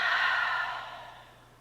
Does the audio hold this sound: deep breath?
yes